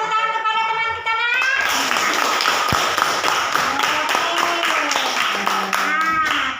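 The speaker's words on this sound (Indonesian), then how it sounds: "Beri tepuk tangan kepada teman kita, nak" Schoolchildren in a classroom clapping for a classmate, a burst of quick, close, uneven hand claps with distinct individual slaps, set between bits of a voice at the start and near the end.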